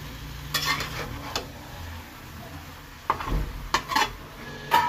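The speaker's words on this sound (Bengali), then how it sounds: "তো ভালোভাবে সবজি আর মাংসটা আমি 2-5 মিনিট ভুনে নিই।" Mutton and bottle gourd curry frying in a pan, with a soft continuous sizzle broken by several sharp clinks and scrapes from a spoon stirring against the pan.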